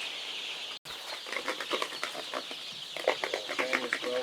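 Chickens in a freshly cleaned brooding pen, a dense flock clucking and chirping continuously, with scattered wing flaps and scratching after a brief dropout near the start.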